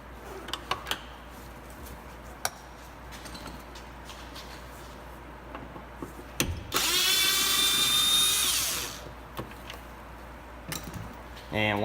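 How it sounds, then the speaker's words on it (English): A power driver backs a Phillips screw out of a Honda CR-V tail light housing, scattered clicks and taps leading to a loud, steady whirring burst of about two seconds, then lighter handling noises. "behind there is a Phillips screw. Go ahead and take that out."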